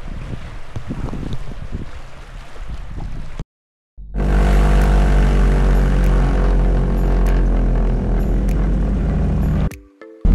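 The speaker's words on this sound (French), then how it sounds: "On est sur la piste pour aller prendre l'élan et on quitte l'île aux Grues" A small propeller airplane leaving Île aux Grues roars loudly and steadily with a droning engine tone, broken by a brief dropout, with wind rumble and no voices.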